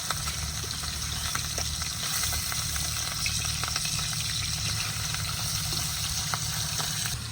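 River fish frying in a wok, a continuous even hiss of oil sizzling with occasional small crackles, close and steady with no talk.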